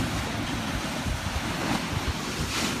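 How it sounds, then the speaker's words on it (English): Surf breaking against the steep cliffs of the Portuguese coast on a hike to Sagres, a steady wash of waves mixed with wind buffeting the microphone, with no voices. "You can see the waves."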